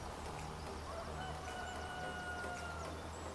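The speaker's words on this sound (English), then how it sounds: "did you hear that chicken sound? That's the first time I've heard that. Oh, rooster just crowed." Rooster crowing in the video game Farming Simulator 25 on a farm pasture, a faint, drawn-out crow over a steady low ambient hum, with a few distant fowl sounds.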